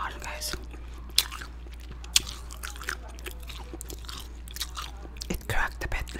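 Homemade caramel-flavored apple candy being bitten and chewed close up, with a few sharp crunchy cracks among soft wet mouth sounds over a steady low hum, the eating quiet and intimate.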